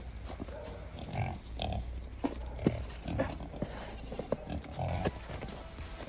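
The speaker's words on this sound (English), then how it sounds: "Here, little pig." Baby pigs grunt and snuffle on a snowy farm during chores, a series of short, close, moderately quiet grunts over a steady low rumble, with occasional bumps and shuffling.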